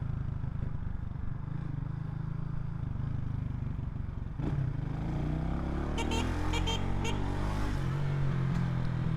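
A motorcycle rides along a road in Jamaica, its engine humming steadily and then revving up with a rising pitch, heard fairly close amid wind noise.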